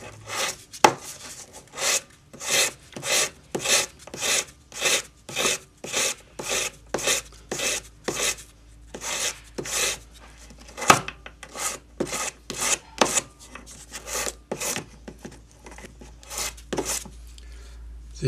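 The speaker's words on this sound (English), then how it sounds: "you need to take that bump off with your sandpaper" Sandpaper rubbing a metal ring: about two dozen brisk, rhythmic rasping strokes, close and fairly loud, with a brief pause midway before the strokes resume at the same pace.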